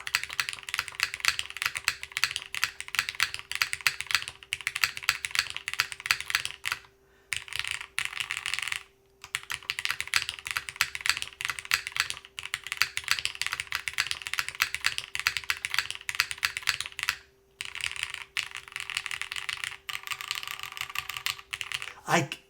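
Typing on a Tea House Cinque 55 keyboard built without a plate, giving dense, rapid clacking keystrokes close up for most of the clip, broken by a few brief pauses.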